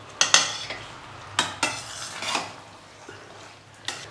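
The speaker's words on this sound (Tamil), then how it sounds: "இப்போ நம்ம வேக வச்சுருக்கிற பாஸ்தாவை இதில் சேர்த்துடலாங்க. சேர்த்துட்டு அப்படியே கலந்து விட்டுட்டு" Boiled pasta is tipped into a pan and tossed with a utensil, giving a few clattering metal scrapes and clinks over a faint background hum, with no talking.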